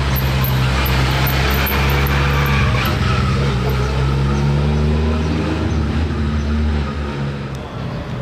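A Ferrari Pista Spider drives the Monaco Grand Prix circuit, its engine roaring loud and steady with tire noise throughout, amid a busy trackside atmosphere.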